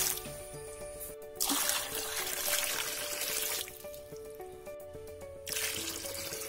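Water measured out and poured into a bucket while making homemade dishwashing liquid, a steady splashing pour that stops briefly, resumes, pauses again and starts once more.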